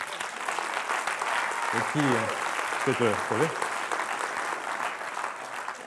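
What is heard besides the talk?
audience applause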